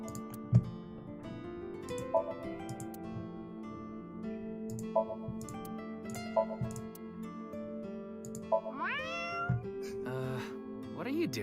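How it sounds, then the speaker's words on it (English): A game character in AI: The Somnium Files – nirvanA Initiative meows at a lucky cat statue, repeated cat-like calls sounding over a steady music bed with rising electronic tones near the end. "If you meow at a lucky cat statue, happiness will come your way."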